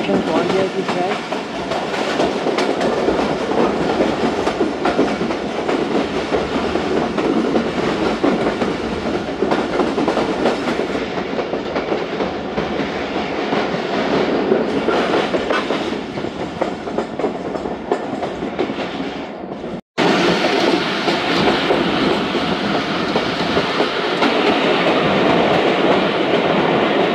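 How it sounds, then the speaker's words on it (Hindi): A passenger train runs near Lahore Cantt with a loud, steady rumble of rolling wheels and rail clatter continuing throughout, heard from on board without letup. "लाहौर कैंट पास किया ट्रेन ने हमारी"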